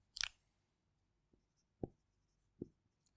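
Chalk or marker taps and scrapes on a board during a mathematics lecture: a sharper stroke at the start, then three sparse, soft, close taps spaced apart against a quiet room.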